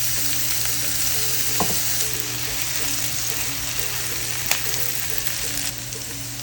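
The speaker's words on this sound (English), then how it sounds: "In a pan, we put some sesame seed oil. We caramelized the onions and garlic a little." Onions and garlic fry in sesame seed oil in a pan, a steady, close sizzle running through the whole stretch with a few faint clinks and stirring taps over it.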